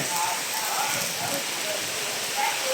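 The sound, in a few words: heavy rain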